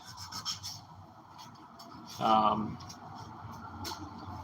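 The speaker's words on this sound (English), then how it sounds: "So I start with 220 grit hand sanding" A short burst of scratchy rubbing around the midpoint, 220-grit sandpaper worked over wood by hand, with faint background noise around it.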